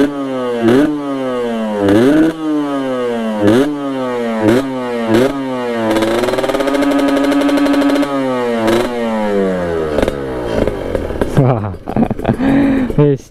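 A Kawasaki Ninja RR motorcycle engine warming up revs hard in repeated sharp bursts, rising and falling, then holds a sustained high rev before more quick throttle blips, loud and close.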